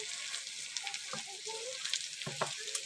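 Vegetables with chilli powder and spices being stirred in a hot frying pan, a close steady sizzle with scraping stirs and clinks of the spoon against the pan.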